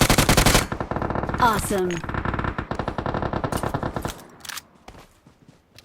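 Loud automatic gunfire bursts out in PUBG, rapid repeated shots that then thin to sporadic, quieter cracks, while a voice exclaims over the action.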